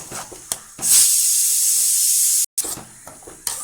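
Ground kurma masala for a cauliflower vegetable kurma hits hot oil with a loud, sudden hiss that holds steady for about two seconds, breaks off, then settles into softer sizzling with a few clinks.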